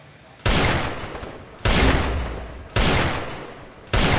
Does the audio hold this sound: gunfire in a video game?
yes